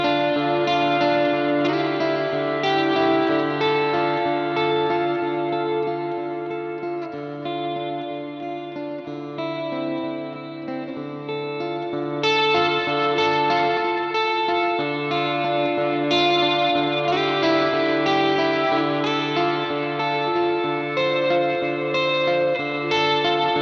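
Sustained guitar chords ring out through an EarthQuaker Devices Levitation reverb pedal set with added atmosphere and bass, the notes blending into a lush, spacious, shimmering wash that swells and fades.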